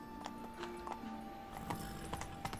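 Horse hooves clip-clop in The Witcher 3 as a mount is ridden, with quiet, uneven hoofbeats against a low game soundtrack.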